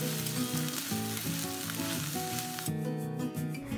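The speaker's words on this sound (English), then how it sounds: "Add some coconut oil. When it's heated, adding curry leaves, crushed ginger and garlic." Curry leaves, crushed ginger and garlic sizzle in hot coconut oil, a steady close frying hiss running throughout with no voices. Faint background music runs underneath.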